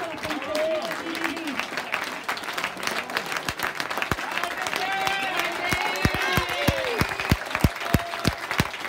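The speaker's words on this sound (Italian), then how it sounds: "Un grande applauso alla Conferenza CGV." A crowd at a youth football award ceremony for the Coppa Lombardia 2018-2019 applauds the second-placed team with steady, lively clapping, and scattered voices and cheers ring out through the ovation.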